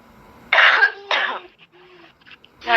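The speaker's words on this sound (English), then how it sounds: "Your wife is coughing now." Two harsh coughs from a woman close by, each a short broadband burst, followed by quieter throat sounds and a third cough starting at the end.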